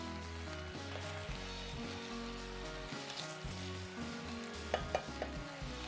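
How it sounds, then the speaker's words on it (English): Beef stew meat and its juices stirred in a pot, a steady wet sizzle and scraping that runs continuously and close, with a few sharper clinks near the end. "Mix well until everything is thoroughly combined."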